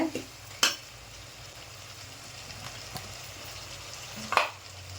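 Onions and spices for a broad bean (avarakkai) mutton curry sauté in a pan with a steady low sizzle. Two or three sharp spatula scrapes stand out near the start and end, and no one speaks.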